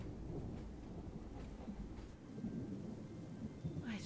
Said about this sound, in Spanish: We can go as soon as this storm's over